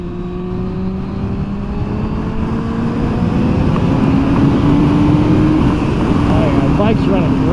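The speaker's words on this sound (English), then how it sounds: "Just go take her out on the highway, ring her out a little bit" A Yamaha R1 project motorcycle with freshly cleaned carburetors rides on a highway. A loud, steady engine drone climbs gradually in pitch as it revs, with wind roar throughout and brief shifting near the end.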